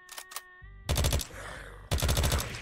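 Automatic gunfire in the survival video game Unturned while fighting zombies, two sharp bursts of rapid shots with a brief gap between them, loud and close, following a short tonal game sound.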